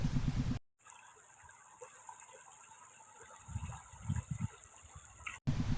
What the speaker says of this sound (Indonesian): terlalu derasnya air sehingga terjadi abrasi untuk di pinggiran sungai ini